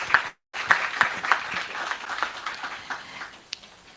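Moderate audience applause during a panel conversation event, a dense patter of claps after a brief dropout, with a few sharper claps standing out, gradually thinning toward the end.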